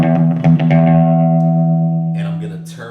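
Electric guitar played through an Orange Terror Stamp amp with an echo effect. A chord rings out loud and sustained, the strum repeats and then decays slowly with a trailing echo as the tone fades.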